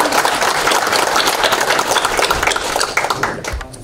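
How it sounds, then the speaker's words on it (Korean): Audience applause fills a hall at a Democratic Party candidates' debate and policy presentation in Guri, a dense steady clapping from a crowd that swells briefly and then begins to thin out near the end. "역시 힘찬 박수 부탁드립니다"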